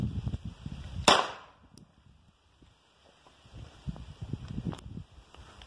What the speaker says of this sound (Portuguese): Dois tiros pra ele.